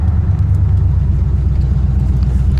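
A 1977 Chevy Malibu runs close by, its engine and mufflers giving a steady, loud low rumble that hums evenly without revving.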